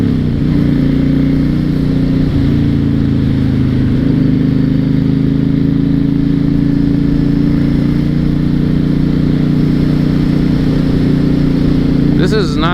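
A 2006 Honda VTX1300 motorcycle held at full throttle while climbing a hill, its engine droning loud and steady throughout with a slight rise in pitch near the end.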